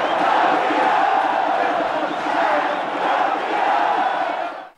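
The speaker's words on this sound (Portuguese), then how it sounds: "Foi aí que a torcida do Itabaiana cantou em uma só voz." A football crowd of Itabaiana supporters chants together in one voice after a goal at a Sergipe championship final, a loud, dense, sustained roar that swells and holds steady for several seconds.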